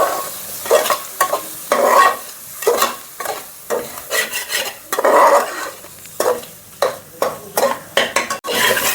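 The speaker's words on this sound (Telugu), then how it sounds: "ఒక చిన్న స్పూను జీలకర్ర పొడి వేస్తున్నాను. వేసినాక బాగా కలిపి" Andhra-style ridge gourd mutton curry is stirred in a pan just after cumin powder goes in. A spoon scrapes and clinks in rhythmic strokes over a steady sizzle, close and fairly loud.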